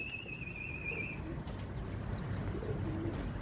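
Pigeons cooing faintly amid steady outdoor background noise, with a brief high whistle-like tone early on, during a rooftop pigeon-flying session where flocks tangle in the air.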